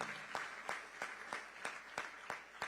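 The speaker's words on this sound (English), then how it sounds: "So, good round of applause" Audience clapping at a live event hosted by the Tamil Nadu governor, heard as a quiet, fairly slow run of separate claps in a steady rhythm rather than a dense ovation.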